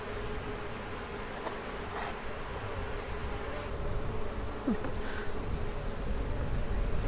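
Carniolan honey bees in an opened hive make a dense, continuous buzzing drone, with individual bees passing close by now and then and no voices.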